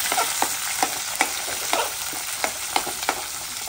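Onions and spices frying over a high gas flame for fish biryani, a dense continuous sizzle with regular crackling bursts and stirring knocks, close up with no talk.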